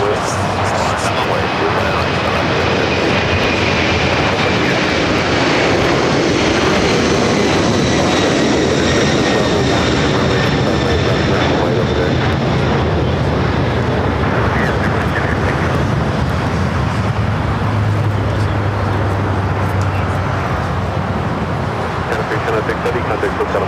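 Airliners at Los Angeles LAX airport roar steadily and loudly throughout, a sustained jet engine rumble with rising whine, mixed with distant traffic noise and occasional radio chatter.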